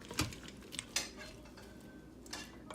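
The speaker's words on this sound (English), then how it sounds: "let's go ahead and give that a quick little stir" A spoon stirring chickpeas inside an Instant Pot, faint metallic clinks and scrapes spaced irregularly over a soft background hiss.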